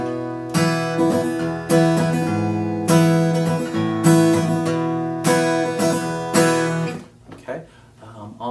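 Guitar picking the same couple of notes over and over in a steady rhythm while bass notes shift underneath, ringing out and fading at the end.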